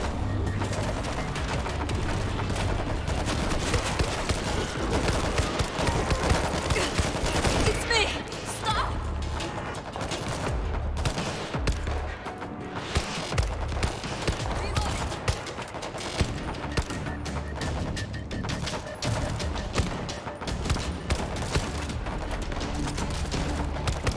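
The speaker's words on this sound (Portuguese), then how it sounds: "Treinar um pouco de tiro." Continuous bursts of automatic gunfire and booms in the zombie shooter World War Z, dense and loud for the whole stretch, with voices talking over the fighting.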